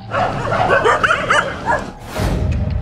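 Stray dogs in Karachi bark and yelp in a string of short, fairly close calls, with a burst of broadband noise near the end.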